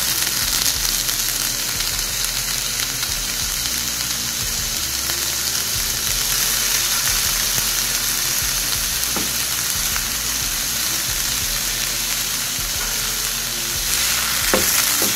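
Tomatoes sautéing with softened onions in a pan, a loud continuous close sizzle with a few faint stirring clinks throughout.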